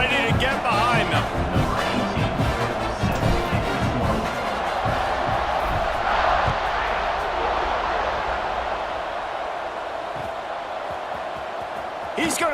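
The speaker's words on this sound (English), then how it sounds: "this crowd now ready to get behind them" A stadium crowd roars steadily in an LSU vs Georgia college football video game, with a broad, sustained wash of cheering that fades slightly over time beneath continuous commentator talk.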